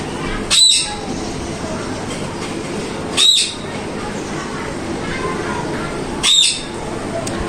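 A pet parakeet called Mithu squawks from a floor below, giving three loud, sharp calls spaced about three seconds apart over a quieter background.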